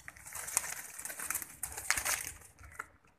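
Pigeons cooing among a group of kept birds, soft overlapping coos and rustling with faint clatter, fairly close and steady, no talking.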